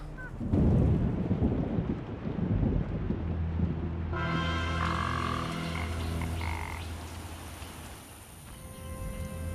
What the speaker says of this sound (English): That rain stopped pretty quickly, didn't it?